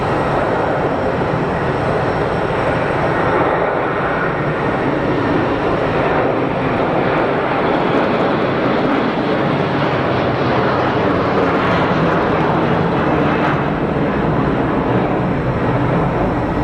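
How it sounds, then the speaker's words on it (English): A large airliner taking off at Geneva Airport, a loud continuous jet roar with broad rushing noise that swells slightly and holds steady throughout, no voices. "the bigger the aircraft, the more sedate the acceleration seems to be, even though it isn't"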